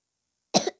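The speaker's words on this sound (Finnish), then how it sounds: "No, mua vähän yskittää, kun en oo juonut vettä." A single person gives one short, sharp cough, close and alone against complete silence, fading quickly.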